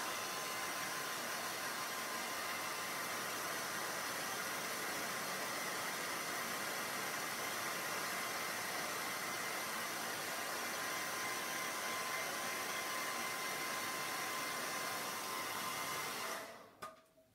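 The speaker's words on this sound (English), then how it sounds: "I'm going to have to turn on the hairdryer one more time" A hair dryer blows steadily over freshly painted acrylic on a nativity and manger picture, a loud continuous airy whoosh that holds unchanged for about sixteen seconds before switching off and fading into quiet.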